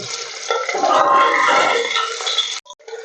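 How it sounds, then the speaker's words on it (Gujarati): Eggplants being washed by hand in a vessel of water in a home kitchen, giving steady close splashing and sloshing for a couple of seconds, followed by a few faint clinks. "હવે આપણે રીંગણા ધોઈ નાખી દઈશું પાણીમાં"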